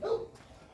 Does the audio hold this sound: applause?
no